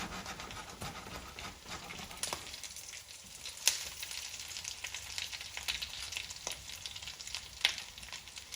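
Canned tuna patties brown in a frying pan, a faint continuous sizzle with a few light clicks and taps spaced apart, with no voices over it.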